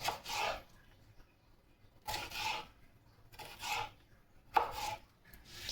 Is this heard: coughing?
no